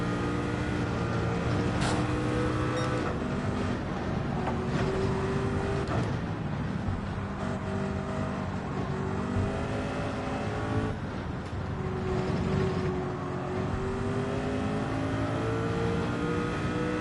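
A race car in Gran Turismo 7 driving a daily race through the Porsche curbs, its engine droning continuously and loud with shifting revs and gear changes for the whole stretch, no voices over it.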